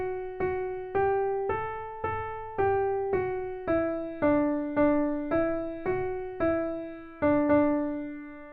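The answering phrase of the Ode to Joy melody from the fourth movement of Beethoven's Ninth Symphony, a steady run of about a dozen clear single notes with bright decaying attacks, played alone at moderate volume.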